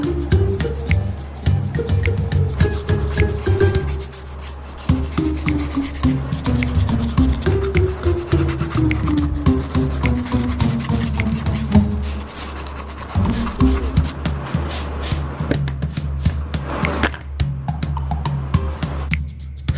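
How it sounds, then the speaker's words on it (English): Sandpaper rubbing over a light brown mobile phone cover, a steady rasping scrape with rhythmic back-and-forth strokes, close and continuous throughout. "Polish the cover with sandpaper so that the light brown color gets fade away."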